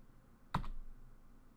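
A single keystroke or short burst of typing on a computer keyboard, a sharp close click standing alone over quiet room tone while entering a key in GDevelop 5.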